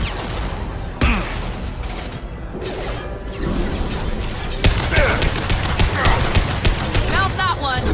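Gunfire from the Mass Effect 2 video game, with sharp repeated shots and bursts that grow denser toward the end, close and loud, with voices talking in between.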